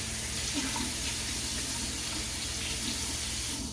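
Water runs steadily from a kitchen tap while pie crust is being made, a constant even hiss of flow filling the whole stretch at moderate level, with no talking.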